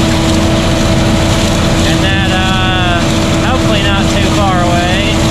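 John Deere 300 tractor driving a cornfield in winter while picking corn two rows at a time, a loud continuous engine drone with steady low hum and wind-buffeted noise throughout, plus wavering higher mechanical whines.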